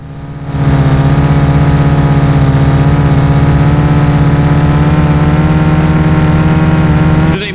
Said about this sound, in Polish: strasznie głośny ten samochód